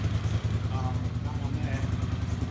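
A Honda CX500 motorcycle engine runs at a steady idle with refitted, standard-tuned carburetors, producing a smooth, even low throbbing pulse up close throughout.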